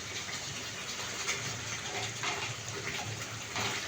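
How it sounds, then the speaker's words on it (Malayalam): Thick coconut milk is poured into a pan of Kerala-style chicken liver roast, a steady close liquid gush running continuously without voices. "പിന്നെ ഈ നല്ല കട്ടിപ്പാലും കൂടെ ഒഴിച്ചു കൊടുക്കാം."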